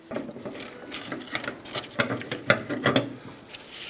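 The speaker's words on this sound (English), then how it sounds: "Go around hitting multiple points on the lock ring" Brass punch tapping around the fuel pump lock ring of a 2000-2007 Ford Focus, a quick series of sharp metallic taps at an irregular pace, close and fairly quiet with no talking.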